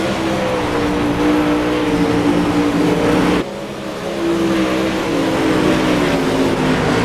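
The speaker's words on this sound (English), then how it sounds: "the only battle we have on the track is Dildine and Newport" Dirt track race cars roar around Eldora Speedway in a loud, continuous engine drone with shifting pitch as the pack races by, a brief dip midway before the full din returns.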